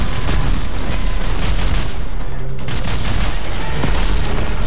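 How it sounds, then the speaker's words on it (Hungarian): Rockets being fired and exploding during a firefight in the video game Dead Space 3, a dense, loud, continuous barrage of booms and blasts with no pauses. "Csak úgy lövöldözik a rakétákat."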